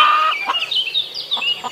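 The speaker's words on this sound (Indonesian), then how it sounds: "Wah, ini induk ayam." A mother hen clucking up close: a few short, soft clucks in uneven bursts, with no other sounds around them.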